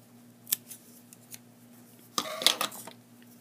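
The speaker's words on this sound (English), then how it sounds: "And I still have to snip this." Scissors snip plastic canvas yarn close by in a quiet room, one faint cut early followed by a louder cluster of two or three crisp snips near the end.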